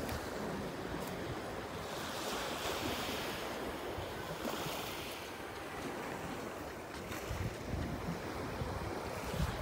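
Black Sea waves breaking on the shore at Sochi on a sunny February day, a steady surf wash with gusting wind buffeting the microphone, loud and continuous with no talk.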